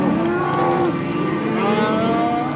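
Cattle low during a cattle muster in Tasmania: one drawn-out moo is followed by another overlapping call, close and clear over a steady background hum.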